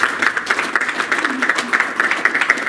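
A crowd applauds steadily for Mac Davis at a panel discussion, a dense, even patter of clapping throughout at moderate loudness, with no talking over it.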